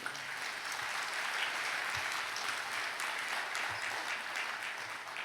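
A congregation at a church prayer service claps hands together in sustained, dense applause, steady and fairly loud throughout with no pauses.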